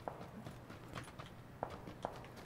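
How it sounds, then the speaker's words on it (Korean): Footsteps in the video game PUBG (Battlegrounds), a soft irregular series of steps with a few sharper thuds, faint and close under a low background hum. "발소리 크기는 똑같습니다."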